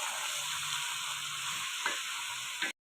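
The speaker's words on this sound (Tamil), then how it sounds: "பீட்ரூட்டு பச்சை வாசனை போகிற வரைக்கும் நல்லா வதக்கணும்." Grated beetroot, about 1.5 kg for a beetroot halwa dessert, sautés in a pan over medium flame, giving a steady, close, continuous sizzle with faint stirring scrapes and no voices.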